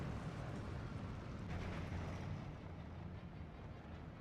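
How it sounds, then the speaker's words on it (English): A bombing strike explodes on infantry squads in Steel Division, a rolling, sustained low rumble that stays fairly faint and even throughout, with no clear separate blasts. "Oh, good bombing strike in the center here."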